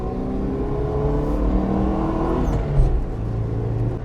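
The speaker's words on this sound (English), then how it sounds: "the revvy nature of the engine" A Citroen GSA's small engine revs steadily while driving along, a continuous close drone with rising and falling pitch and no voices.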